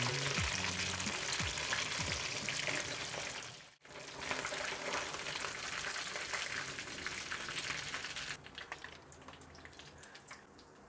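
Masala-coated jalebi fish (tilapia) fries in a pan, giving a loud, steady crackling sizzle. A brief gap partway through is likely the fish being turned, and then the frying carries on, softening toward the end. No one speaks.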